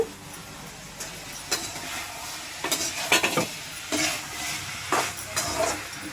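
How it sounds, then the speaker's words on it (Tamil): Vegetables for sambar sautéing in a pan, with soft stirring scrapes and intermittent sizzling bursts over a steady low frying hiss, close and moderately quiet. "காய் வதங்குது"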